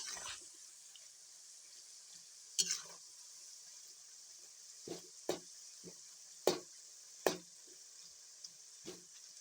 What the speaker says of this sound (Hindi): हमने जो केले कढ़ाई पे डाले हैं उसे अच्छी तरह हिलाना चाहिए ताकि वो एक दूसरे से चिपके ना